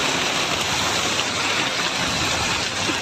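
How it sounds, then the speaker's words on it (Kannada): Heavy monsoon rain lashes Karnataka in a loud, dense, constant downpour, a steady wash of falling water with no voices over it. "ಮಳೆ ಜಾಸ್ತಿ ಬರ್ತಾ ಇದೆ, ಮುಂಗಾರು ಮಳೆ ಅಬ್ಬರ ಜೋರಾಗಿದೆ."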